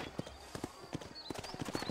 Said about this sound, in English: Para esporear o cavalo e aumentar a velocidade.